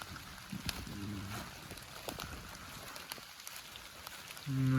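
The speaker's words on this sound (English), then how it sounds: "It's a nice drizzly night here in the forest." Light drizzle falls at night in a northern Michigan forest, a soft, steady patter of drops close by, with a voice speaking briefly over it.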